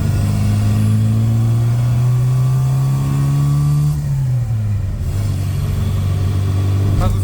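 A classic Austin Mini's small engine drones steadily while driving, rising in pitch as it revs, then dropping and settling into a constant hum near the end. The loud, continuous engine sound carries on with no talk over it.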